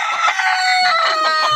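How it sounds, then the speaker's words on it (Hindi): Several Sonali chickens on an egg farm cluck and squawk noisily close by, overlapping calls with a high crowing note running through. "देखें कितना शोर कर रही हैं ये हमारी मुर्गी"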